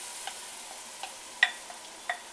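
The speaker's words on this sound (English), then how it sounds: "I'm going to go ahead and toss back in carefully my vegetables." Vegetables are stirred back into a pot of sizzling shrimp creole: a faint, quiet sizzle broken by a few sharp spoon clicks against the pan.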